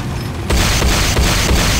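A Nod airstrip blows up in the game Renegade: a loud, sudden explosive blast that cuts in after a brief lull, followed by a sustained roaring rumble with repeated heavy booming surges.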